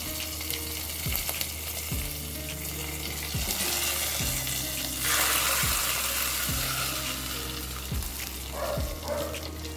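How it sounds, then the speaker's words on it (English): Tempered ingredients hiss and sizzle as they drop into pineapple pachadi on a low flame, a loud burst of frying close up over a steady background hum, with some stirring clinks near the end. "Put the pachadi back on the stove on a low flame and add the tempered ingredients into the pachadi."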